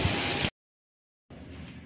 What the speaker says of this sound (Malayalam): അയ്യോ മഴ.